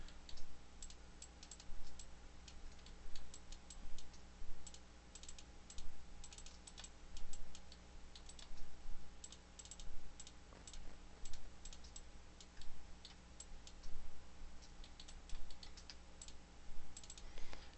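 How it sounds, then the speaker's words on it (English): Computer mouse clicking during Autodesk Maya modeling work, heard as a steady run of light, close double clicks under a faint constant hum, with no talk. "I'm just holding shift while I'm double clicking sort of away to get all the faces that I need."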